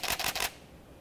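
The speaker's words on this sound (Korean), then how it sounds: "80D 소리입니다." A Canon EOS 80D shutter fires in a quick burst of three close, soft clicks, evenly spaced and fading into quiet room tone.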